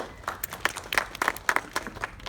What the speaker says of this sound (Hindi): तो ताली हो जाए जोरदार आप लोगों की।